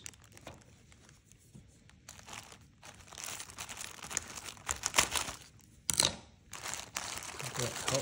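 Dull scissors chew through a cardboard box in irregular crunching, tearing bursts, close and fairly quiet.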